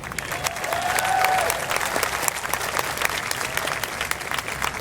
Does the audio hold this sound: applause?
yes